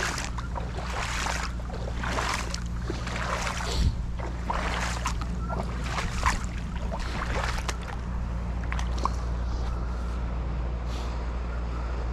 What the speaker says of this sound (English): A lot of boat traffic coming through here.